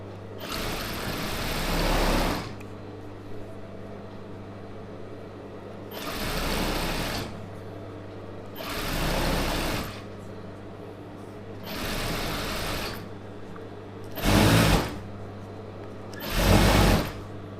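An USHA sewing machine stitching folded fabric for Patiala pants runs in six close bursts of rapid mechanical whirring, each lasting one to two seconds and separated by short pauses, with no talking.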